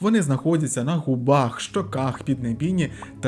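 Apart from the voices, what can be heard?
No everyday noises stand out.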